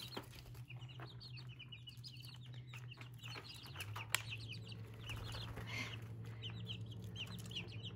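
Young chicks cluck and cheep in a brooder inside a barn stall, a busy run of overlapping short calls over a low steady hum, with one brief sharp knock partway through.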